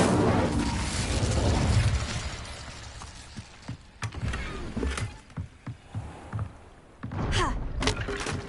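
Incendio fire spell cast in Hogwarts Legacy on PS5: a dense roaring burst of flame at the start fades into a series of sharp thuds and pops, then another whooshing surge near the end.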